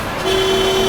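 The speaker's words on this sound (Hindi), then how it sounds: "अरे क्यों हॉर्न मार रहा है?" A single car horn sounds as one steady, loud sustained honk that starts a moment in and holds to the end, over a busy street background with no talking.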